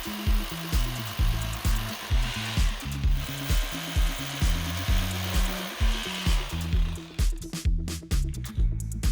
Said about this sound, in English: use a rotary hammer to drill the holes